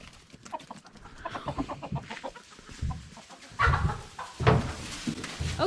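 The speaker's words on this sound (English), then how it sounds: "this little sir is getting chased by the roosters" Roosters and hens clucking and squawking nearby in a busy flurry on a farm, roosters chasing a hen, with scattered scuffling and a couple of louder crowing bursts.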